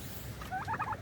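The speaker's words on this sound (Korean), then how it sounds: "칠면조의" A turkey gobbles in a rapid burst of warbling calls at a mountain homestead in Taebaek, Gangwon, fairly close and clear over a quiet outdoor background.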